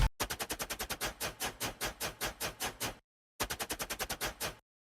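A shaker percussion sample in a music production plays as rapid, even, loud rhythmic pulses in a long run, then pauses briefly and starts a second run.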